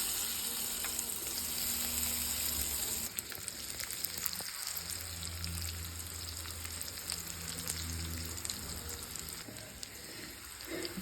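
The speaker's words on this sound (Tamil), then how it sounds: "எண்ணெய் போட்டு இது எப்படி வறுக்கலான்றத காமிக்கிறேன்." Taro (colocasia) pieces fry in hot oil in a pan over a slow flame, giving a soft, steady sizzle with faint crackles and a few light clinks, no one speaking.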